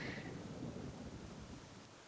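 Steady rain with a low rolling rumble of thunder in the WolfQuest video game, a dense continuous wash of broadband noise and deep rumble with no voices.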